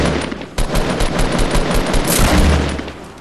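Rapid automatic gunfire from the Fortnite Battle Royale video game, a loud, dense burst of shots running almost without pause through the whole stretch with no voice over it.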